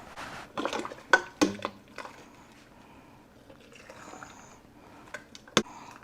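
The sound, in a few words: ladling pepper relish into canning jars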